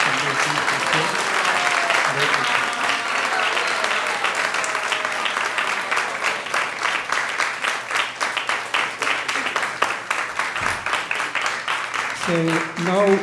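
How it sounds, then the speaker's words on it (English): Audience applause after a lecture fills the room, a dense sustained clapping that starts strong and thins into scattered claps toward the end, with a voice briefly audible near the close. "So again, a big round of applause for Devaprastha Prabhu"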